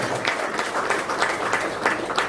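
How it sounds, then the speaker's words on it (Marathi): Loud applause fills a church during a wedding mass, a dense, continuous crowd clapping that holds steady from start to finish. "जोरदार टाळ्यांचा कडकडाट."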